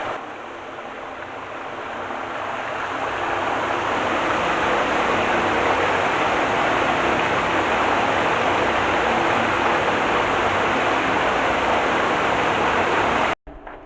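Loud steady rushing of delivered water pouring into an off-grid storage tank, a continuous broadband roar that builds slightly then cuts off abruptly near the end.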